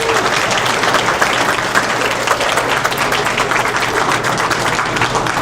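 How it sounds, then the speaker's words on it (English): A full room at a 413 Day state youth workforce announcement breaks into loud, steady applause, dense and continuous clapping throughout. "Let's get a round of applause for 413 Day."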